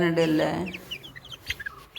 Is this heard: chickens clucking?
yes